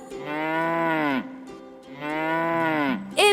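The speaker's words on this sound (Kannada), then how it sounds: "ಹಸು" A cow gives two long, loud, tonal moos, each about a second, separated by a short pause, with the start of a third call at the end.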